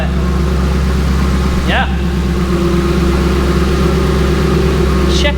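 A 1963 Ford F100 pickup truck engine idles close by with a steady, loud low rumble and a regular pulsing beat, while someone speaks briefly over it.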